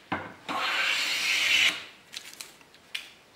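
A 120-year-old Stanley No. 6 hand plane takes a long shaving off a piece of tulip poplar, a sustained close rasping hiss, followed by a few short scraping strokes.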